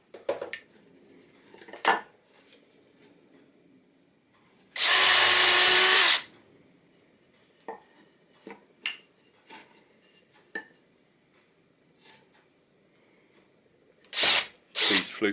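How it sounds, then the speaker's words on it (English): A loud burst of a power drill whirring through wood for about a second and a half, with clatters and knocks of tools before and after, then a short second burst. "then I'll drill that one through so the errors don't compound."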